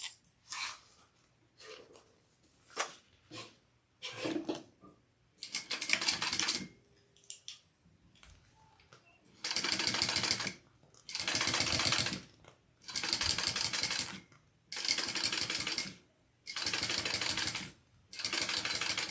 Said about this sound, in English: we're going to top stitch along that